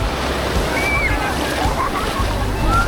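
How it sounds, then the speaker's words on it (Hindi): Sea waves wash and surge around someone wading into the water on the Karwar–Goa coast, a continuous rushing surf with wind buffeting the microphone and faint voices in the background. "ये आ रही है लहरों के ऊपर लहरें"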